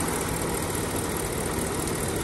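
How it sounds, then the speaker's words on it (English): A 2008 BMW X5 4.8i E70 with the N62 V8 idles steadily during an engine flush with Liqui Moly additive, a close, even, continuous rumble with no talking. "So far I don't hear any odd sounds coming from the engine."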